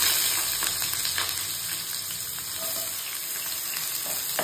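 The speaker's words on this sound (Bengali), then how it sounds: "এবার এই পেঁয়াজ কুচিটা দিয়ে দেবো।" Chopped onion sizzles in hot oil with whole garam masala after fish has been fried, a steady crackling fry with occasional stirring scrapes, close and continuous.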